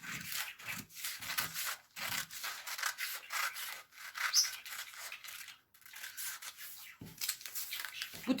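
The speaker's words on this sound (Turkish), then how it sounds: "Şimdi çift olarak kesiyorum bunu. Yani kumaş katı olarak kesiyorum." Scissors cutting through a double layer of fabric for a flared skirt pattern, giving a run of rough, rhythmic snips and rustling strokes at close range.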